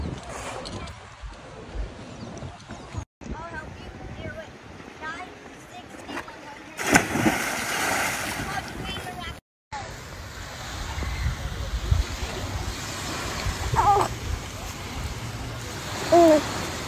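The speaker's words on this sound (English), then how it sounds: "This is the beach." Beach surf and waves wash in as a broad continuous roar mixed with wind buffeting the microphone, heard under and between people talking nearby.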